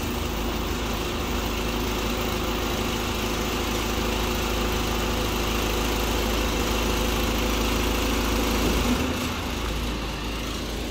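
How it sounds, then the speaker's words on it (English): A Marini MRP 350 remote-control piling rig runs with a steady, unbroken engine drone while its mast extension is raised, loud and close throughout with no pauses. "now I'm gonna continue to lift the mast extension"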